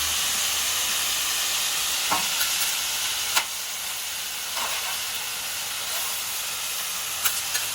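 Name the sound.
steam hissing from frying cabbage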